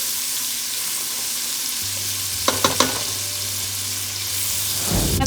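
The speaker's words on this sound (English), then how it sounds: "the carrot's been cooking with the bacon and the bacon oil, so it's getting cooked and a little tender" Diced carrots fry in bacon and bacon oil for corn chowder, producing a continuous sizzle with a few quick stirring clinks partway through and no talk.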